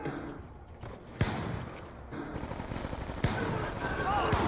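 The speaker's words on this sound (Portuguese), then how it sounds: "Essa 12 aqui você tem que mirar certinho, ela não espalha o tiro igual a outra." Shotgun fire in Call of Duty Black Ops 2 on PS3, a few sharp separate blasts spaced apart over a constant background of game noise and faint talk.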